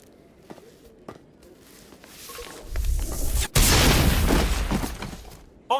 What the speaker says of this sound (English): Nicely placed grenade.